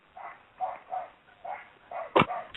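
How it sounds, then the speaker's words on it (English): A dog barks over a muffled phone line, about six short barks in an uneven rhythm, each fairly loud, with one sharper, harder bark near the end. "Well, I can hear the dog well."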